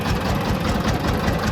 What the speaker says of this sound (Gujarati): જો આપણે ટ્રેક્ટર લઈને જઈએ